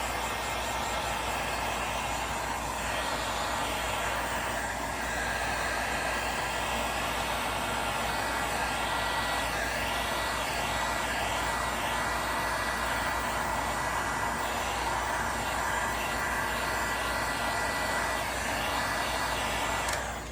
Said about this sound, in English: I'm going to just maybe just hit it a little bit with the heat gun